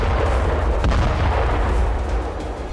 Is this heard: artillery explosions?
yes